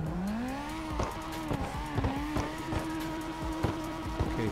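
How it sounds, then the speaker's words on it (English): A drift car in CarX Drift Racing Online slides through a freestyle section, engine revving steadily with repeated sharp bursts and tire squeal as it swings back and forth, loud and close with no talking. "Let's do some freestyle drifting in this section."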